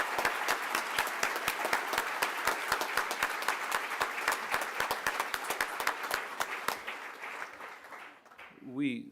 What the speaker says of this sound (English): let's first start by just a rousing round of applause for